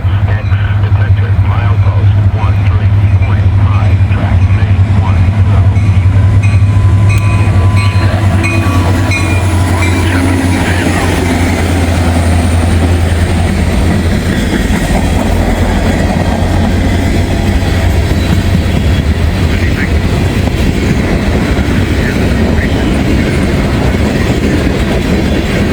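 Locomotive 352 rolls past on the nearest main track in the rain, a loud, close rumble with low engine drone and steady wheel clatter that carries on throughout.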